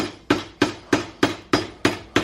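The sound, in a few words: hammer hitting car prop shaft parts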